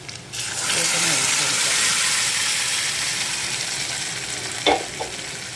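Cooked dal is tipped into a hot pan of tempered spices, and a loud, close hiss builds and holds steady, with a brief clatter of a utensil near the end.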